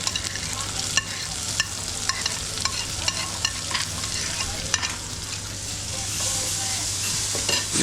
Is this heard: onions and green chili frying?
yes